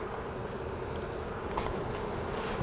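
Honeybees in an opened hive being inspected give off a continuous soft buzzing drone, fairly faint and steady, with no talk over it.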